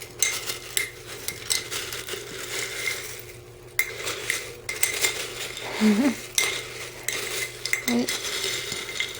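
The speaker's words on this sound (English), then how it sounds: "And then mix that all together." Homemade rat treat mix, including banana puffs, being stirred in a container, with repeated dry clattering, rattling and scraping close by, and a brief spoken word.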